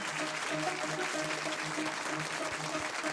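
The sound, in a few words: audience applause for Formula 1 driver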